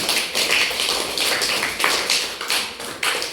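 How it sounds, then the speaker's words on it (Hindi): Schoolchildren clap for their classmates during a lesson, a ragged, uneven patter of many small hands in loose bursts, close and fairly loud, with almost no talking over it. "तालियां बजाओ इनके लिए"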